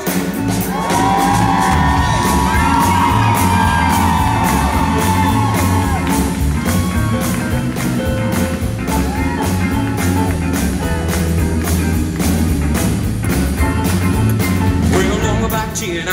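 A concert crowd at the Tupelo Elvis Festival screams and cheers during a rock-and-roll performance, loud sustained shouting and whooping blended with the band and singing, constant and dense throughout.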